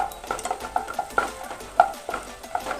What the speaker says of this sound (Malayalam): നന്നായി അണ്ടിപ്പരിപ്പും ബദാമും ആ നിലക്കടലയും ഒക്കെ ഒന്ന് മൂത്ത് വന്നിട്ടുണ്ട്